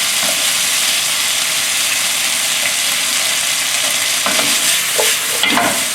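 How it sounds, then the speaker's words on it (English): Asparagus stir-fries in a pan with garlic, olives and feta: a steady, loud sizzle with a few sharper stirring scrapes near the end. "We want to stir fry crispy."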